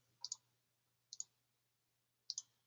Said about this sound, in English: And then just right-clicking,